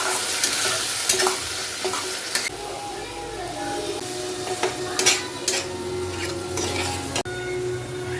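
A spice paste of cumin, coriander, turmeric and red chilli with onion mixture frying in a pan: close sizzling with repeated spatula scrapes and sharp clanks against the pan.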